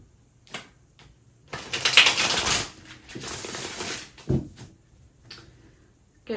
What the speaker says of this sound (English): Get a couple more shuffles.